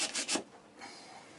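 Cutting through a piece of insulation from a Danfoss BD35/BD50 12/24V compressor kit gives three quick close scraping rasps, then a softer, steadier rubbing scrape.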